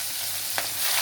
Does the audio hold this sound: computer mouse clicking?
no